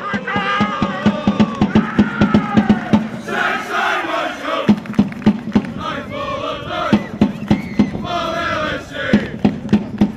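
Fans at a Motherwell football club training session cheer and chant in a rhythmic, loud crowd roar, with sharp claps and shouted bursts rising and falling throughout.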